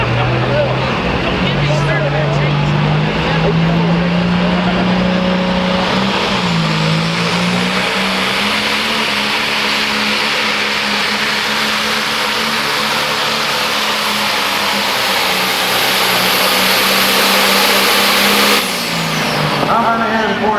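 A super stock pulling tractor engine roars continuously at high revs, a loud sustained drone that rises and wavers through the pull before cutting off near the end, with an announcer talking over it.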